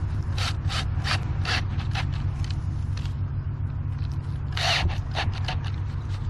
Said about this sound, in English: we use our handy dandy nut driver and a 5/16 inch bit, tighten it down